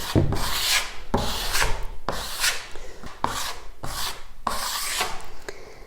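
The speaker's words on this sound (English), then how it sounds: "as I'm troweling, I'm not pulling it in one direction" A steel trowel spreads Blendd cement across a countertop in short, rasping scrapes, roughly one stroke per second, loud and close with no voices.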